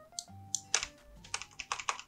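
Computer keyboard keys being pressed while playing a takoyaki-party survival game, giving a close, irregular run of sharp clicks and taps over about two seconds, with a faint steady hum underneath and no talking.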